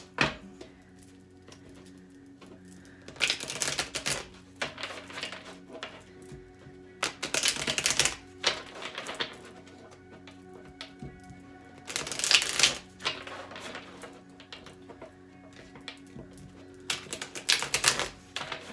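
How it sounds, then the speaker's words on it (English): Bursts of riffling tarot card shuffles recur every few seconds, crisp and close, with quiet rustling and handling between them. "let's shuffle for Leo"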